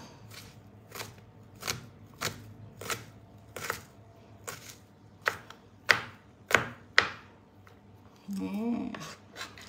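Crushed garlic cloves being chopped with a small kitchen knife on a board, a series of about a dozen crisp, close knocks at an uneven pace, growing sharper toward the end, followed by a brief rustle.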